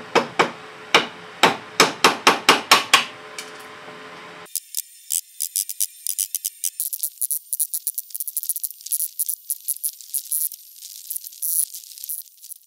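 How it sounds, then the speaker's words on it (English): Chisel work on old hardwood shelving for a Japanese shrine lantern: about a dozen sharp, evenly spaced mallet-on-chisel knocks, then a quicker run of lighter, crisp paring taps and chips, close and clear with no talk. "Once again a pull saw and a slightly bigger chisel, and I was able to chisel away the front sections here."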